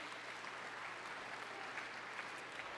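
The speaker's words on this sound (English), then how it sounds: "Give yourselves a round of applause for looking so amazing." An audience at a college sports awards night claps steadily, a dense continuous patter of many hands that holds even and fairly loud throughout with no voices over it.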